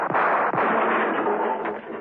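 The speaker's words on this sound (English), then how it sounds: "John Steed and Emma Peel, hearing the shots, tore out of Steed's apartment." Gunshots in a radio drama, with two or three sharp cracks close together followed by a dense, steady roar that fades slightly at the end, with no voices.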